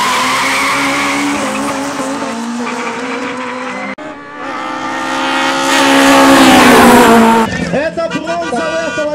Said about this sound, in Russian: Машины едут на полную.